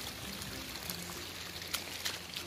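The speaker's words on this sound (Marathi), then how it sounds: "मेरेच्या वरसून पाणी वाहता" Heavy rainwater pours steadily over an earthen field bund in a waterlogged Konkan field, a continuous rushing flow with scattered splashes, close and loud.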